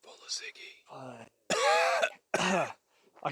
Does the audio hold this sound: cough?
yes